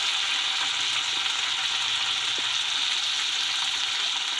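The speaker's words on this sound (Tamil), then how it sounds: "தக்காளி நல்லா வதங்கட்டும்" Onions and tomatoes with salt sauté in hot oil for an egg pepper fry, giving a steady, close sizzle with faint stirring that stays even throughout, with no voices.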